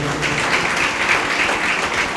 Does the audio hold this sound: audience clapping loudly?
yes